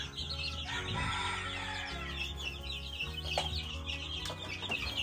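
Gamefowl chicks from two mixed batches of different sizes cluck and chirp together in a rearing pen. The peeps and soft clucks are busy, overlapping and continuous, heard up close.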